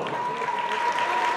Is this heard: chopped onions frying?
no